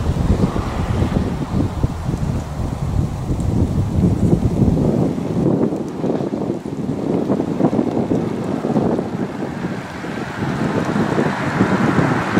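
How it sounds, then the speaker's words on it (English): Wind and rain buffet the microphone outdoors near Belfast in a continuous rough roar, gusting louder and softer with no voices heard. "there's the rain coming in behind them"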